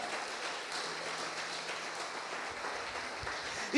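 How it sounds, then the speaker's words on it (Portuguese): Church congregation applauding during a sermon: a soft, continuous wash of clapping from a distant crowd, fairly faint and even, ending with a sudden louder burst at the close. "Você pode aplaudir a Ele?"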